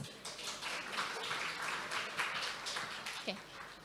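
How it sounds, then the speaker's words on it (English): Faint, steady applause for a panel of speakers at a conference session on election disinformation, a soft, continuous patter of many hands from a room audience with some voices underneath. "I'd like to invite all attendants to give a round of applause"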